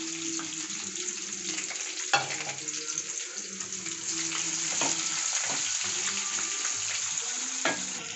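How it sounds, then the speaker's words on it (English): Onions browning in a pan for a mung bean and cucumber curry, a steady broad sizzle with a few stirring clicks and scrapes, moderately close and continuous throughout with no talking. "I let the onions brown"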